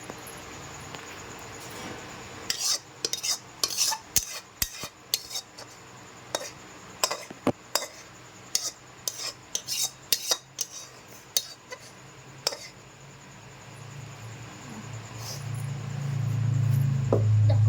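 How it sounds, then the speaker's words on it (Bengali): Thick ghugni curry poured from a cooking pot into a bowl, with a spoon scraping the sides: a busy run of sharp metallic clinks and scrapes, close by, ending in a louder low rumble of the last of the pour. "আমরা এখন এই ঘুগনির তরকারিটাকে ঢেলে নেব গামলায়"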